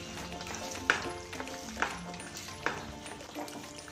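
Gongura chicken curry sizzles in a pan while it is stirred. Three or four distinct scraping strokes of the spoon sound close and regular over a soft continuous fry.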